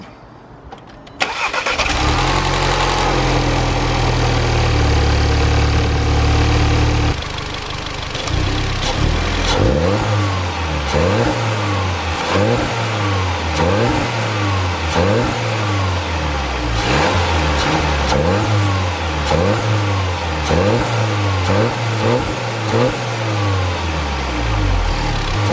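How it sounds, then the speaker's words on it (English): A VW Polo GTI fitted with an induction kit cranks and fires up loudly, settles briefly, then revs repeatedly in steady rhythmic blips close by, with no talking. "So we are now going to go and start it up."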